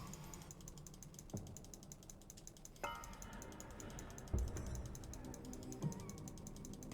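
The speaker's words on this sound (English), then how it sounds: "So if you hear all the clicking, sorry." A manual mouse button is clicked repeatedly at irregular intervals, each click sharp and close, with a steady hum of game audio underneath and no talk.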